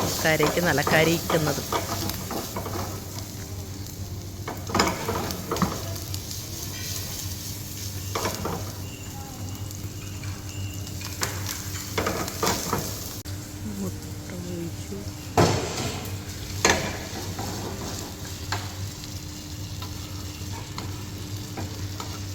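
Chopped vegetables for an omelette fry in a pan with a steady sizzle and repeated stirring and scraping, a few louder clanks of the utensil on metal; close and continuous, with a low hum underneath.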